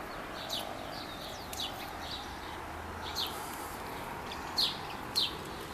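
Birds calling among pitanga trees beside a country road, a few short sharp chirps spaced irregularly over a soft steady outdoor background, fairly distant and faint.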